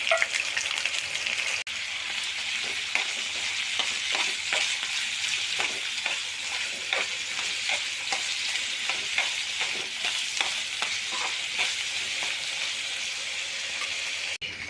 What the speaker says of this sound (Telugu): మెత్తాలు కడుక్కున్నాక ఆయిల్ వేసి